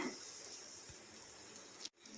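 Tamarind water poured into a pan of kara kuzhambu with chilli powder, drumstick curry cooking; a steady watery splashing pour runs throughout and stops abruptly near the end.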